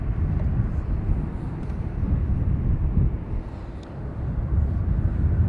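A Ryanair airliner arriving from Verona at Dublin Airport rumbles as a steady, heavy low roar, with wind buffeting the microphone and faint talk beneath.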